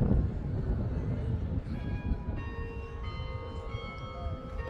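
Bells or a horn sound at Sydney University, faint sustained tones ringing out over a broad outdoor rumble and wind, entering partway through and overlapping.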